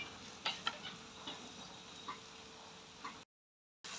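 Fish frying in a pan, a soft steady sizzle with a few sharp spatula clicks and taps, faint and close, with no talking before the sound cuts out briefly near the end.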